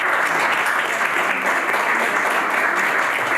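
An audience applauds steadily and loudly after a humanities debate speech, a dense continuous patter of clapping hands in a hall with no one speaking.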